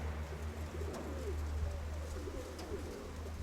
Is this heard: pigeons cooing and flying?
yes